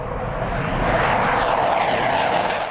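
Military jets roar loudly and steadily overhead during an air-supported counter-terror operation, a broad continuous engine rumble with no talk.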